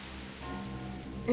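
Dense, even rain falling in the Senkou no Clarias video game, a continuous broadband hiss of moderate loudness with no voices, ending in a brief brighter swell.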